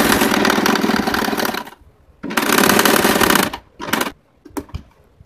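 A sewing machine stitches cloth for a homemade bag, running in loud, close bursts of rapid mechanical chatter, two long runs then shorter starts and stops with quiet gaps between.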